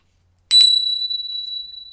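A small bell, likely among other little brass objects in a ceremonial space used for tea ceremony, is struck once, giving a bright clear ring that sustains and slowly fades alone after a moment of silence.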